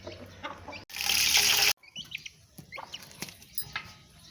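Aseel chickens clucking softly as they feed alongside a small chick, short irregular clucks close by after a brief burst of running or splashing water.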